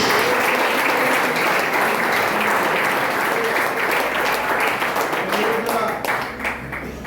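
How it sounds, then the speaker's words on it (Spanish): A church congregation claps loudly and steadily for several seconds, the applause thinning slightly toward the end. "Denle ese aplauso fuerte a él esta mañana"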